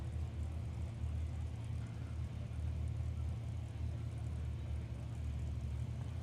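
A drag race car sits lined up at the start, its engine giving a steady, deep, loud rumble with no pauses, heard alone without voices.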